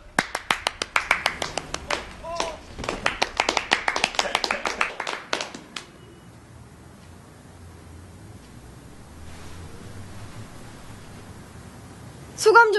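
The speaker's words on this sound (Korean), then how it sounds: "자, 그런 의미에서 박수!" A small group of workmates clap in a rapid burst of close, sharp handclaps for about six seconds, then fade into quiet room tone before a voice cuts in at the end.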